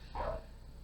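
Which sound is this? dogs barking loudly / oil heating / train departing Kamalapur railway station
dogs barking loudly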